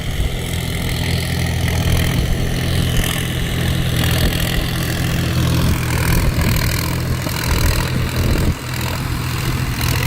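A Sonalika Tiger DI 50 tractor on big 16.9-28 rear tyres runs in second gear at medium throttle, giving a loud, steady, close diesel drone with a constant rumble that dips only briefly near the end.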